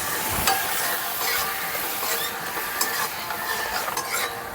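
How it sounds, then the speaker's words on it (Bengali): Masala spices with a splash of water sizzling on high flame while being stirred for pangas fish kosha, steady loud frying with repeated scraping and clinking of a spatula against the pan, close and without talk. "জলটা দিয়ে গ্যাসের ফ্লেমটা হাই করে মশলাটাকে ভালো করে কষিয়ে নেব"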